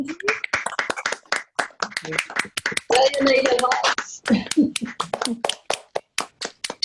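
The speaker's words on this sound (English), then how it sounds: "perhaps the significant performance here is applause" Scattered claps from a small audience at a literary address, sharp separate hand strikes in an uneven rhythm with a short denser burst midway, close and moderately loud, with talking around them.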